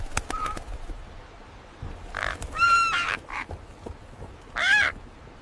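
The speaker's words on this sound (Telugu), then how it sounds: "40 దినములైన తరువాత నోవాహు తాను చేసిన ఓడకిటికీ తీసి ఒక కాకిని వెలుపలికి పోవిడిచెను" Several harsh bird calls, consistent with a crow cawing, ring out in two short bursts over a faint background with a few sharp clicks.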